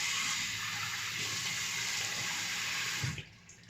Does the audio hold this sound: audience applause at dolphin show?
no